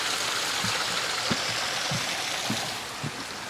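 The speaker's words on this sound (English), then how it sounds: "Obviously the waterfall is kept on this side of the pond with the water moving" Water pours steadily down a small garden pond waterfall on a freezing November day, a continuous close rushing splash with faint irregular plops and no voices.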